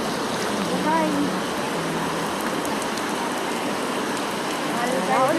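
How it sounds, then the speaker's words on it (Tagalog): Rain falling outdoors in the Philippines, a steady close hiss of drops on surfaces that holds through the whole stretch, with faint voices in the background. "Umuulan."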